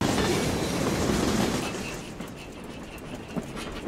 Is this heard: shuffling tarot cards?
no